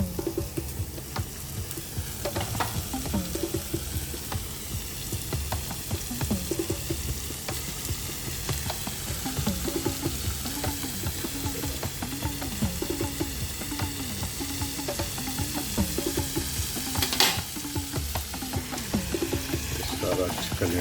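Chicken pieces sizzle and fry in a curry masala of oil and spices, with a steady crackling hiss and repeated scraping stirs of a spoon against the pan throughout, close and continuous.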